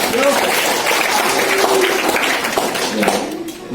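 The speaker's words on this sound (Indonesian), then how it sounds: "Tepuk tangan dulu untuk Bapak ini" Applause from a gathering of high school students and guests at a youth devotional and scout rank ceremony, dense clapping mixed with voices and murmuring, fading slightly near the end.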